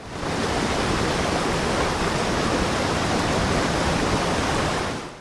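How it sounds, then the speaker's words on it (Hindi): Barpuda waterfall in Kaprada, with water dropping from a great height into mist after rain, roars as a dense, unbroken wash of sound, loud and close from start to finish, with no voices. "इतनी ऊपर से गिरता हुआ पानी नीचे आकर मिस्ट बना रहा था"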